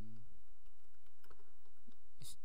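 Typing on a computer keyboard while coding a Java program in NetBeans, a quick series of light key clicks at close range, with a brighter burst near the end and no voice.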